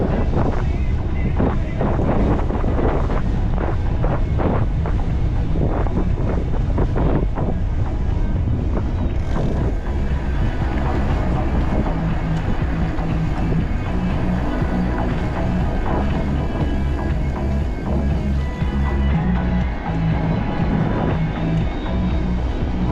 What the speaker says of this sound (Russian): Прохладненький такой ветерок дует.